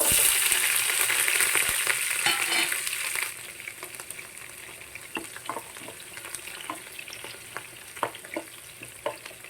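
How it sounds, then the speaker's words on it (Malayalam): A loud, hissing sizzle of chopped shallots frying in hot oil with popped mustard seeds settles after a few seconds into a softer crackle, with scraping and stirring clicks nearby. "അരിഞ്ഞു വെച്ചിരിക്കുന്ന കൊച്ചുള്ളി ഇടാം."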